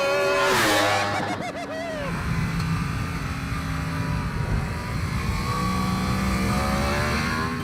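A car accelerates hard away on a track during a car-versus-motorcycle contest, its engine rising in a loud revving sweep that then settles into a steady roar fading slightly into the distance.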